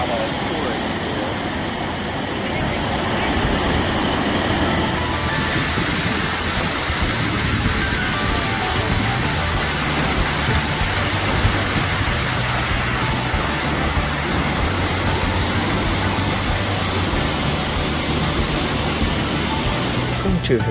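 A waterfall at Mount Rainier roars as a steady broadband rush that swells after a few seconds and then holds constant, with a low hum and faint voices of people nearby mixed underneath.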